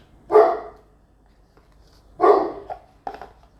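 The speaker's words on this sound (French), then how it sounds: "Il y a mes chiens qui aboient." Dogs bark indoors, two loud close barks a couple of seconds apart followed by a shorter yip, with quiet room tone between.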